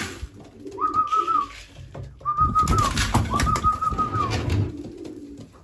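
Young racing pigeons cooing in a loft, with several drawn-out rising and falling coos close by over a low rustling background, no talk.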